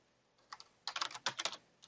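Quick bursts of keystrokes on a computer keyboard while entering data into SAS: a short pause, then a rapid cluster of close, crisp taps and one final click, fairly quiet.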